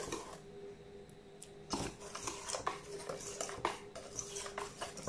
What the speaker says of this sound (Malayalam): ഇങ്ങനെ നല്ലപോലെ ഒന്ന് മിക്സ് ചെയ്തെടുക്കുക.